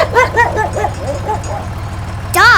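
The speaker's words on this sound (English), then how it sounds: "Dog." A dog barks in a quick run of short yips and woofs, close and fairly loud, over a steady low engine-like hum, with a fresh burst of barking at the end.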